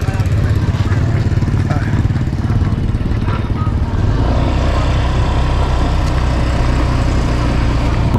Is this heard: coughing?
no